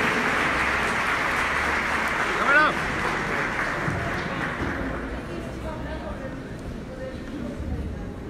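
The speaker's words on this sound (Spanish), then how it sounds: "a nuestra patinadora, un gran aplauso para ella también" An audience claps for a skater at a public presentation event in Mexico City, a broad steady applause that slowly thins out, with chatter and voices mixed through it.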